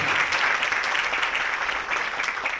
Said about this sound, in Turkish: Böyle yürekten alkışlayın